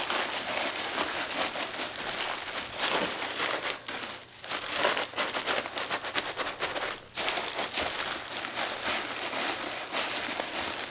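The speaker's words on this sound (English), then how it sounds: "So what we need to do is get the shred around those bath bombs." Paper shred crinkles and rustles as it is packed around bath bombs, a close, busy crackling with brief pauses.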